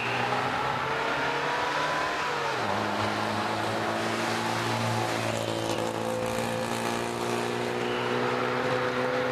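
Onboard sound from a historic rally car on the Biķernieki stage, the engine roaring loud and steady with a clear gear change partway through, followed by sustained high-revving harmonics and road noise.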